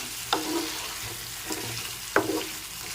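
Spoon stirring achari aloo dum, a spiced potato curry with sugar and amchur powder, in a pan: a few distinct scraping strokes over a soft, steady sizzle, close and alone.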